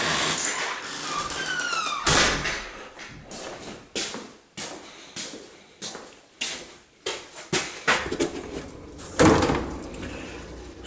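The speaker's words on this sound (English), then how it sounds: "this sliding door," Someone works a sliding door in a basement room being fitted with sawmill oak trim, giving a run of repeated knocks, slides and bumps, several sharp hits spaced irregularly over about ten seconds, loud and close with no talking.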